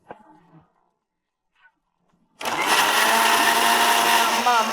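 An electric mixer grinder blitzing ginger and onion into a paste roars on suddenly and runs loud and continuous after a few quiet kitchen sounds.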